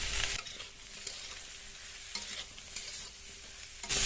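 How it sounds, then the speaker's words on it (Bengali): Papaya pieces frying with salt, turmeric and fried prawns for a village-style shukto, sizzling softly in a pan while a spatula scrapes and stirs in a few distinct strokes, close up and without any talk. "কিছুক্ষণ পেঁপেটা ভেজে নেব"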